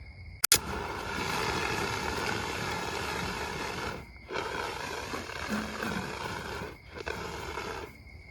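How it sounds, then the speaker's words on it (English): A fire extinguisher discharges at a fire in a loud, steady rushing blast, broken by two short pauses before it resumes. "that right there is how you put out a fire with a fire extinguisher"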